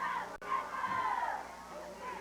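A faint, distant crowd cheers at a football game, a steady roar of many voices with some shouts rising through it, heard at low level.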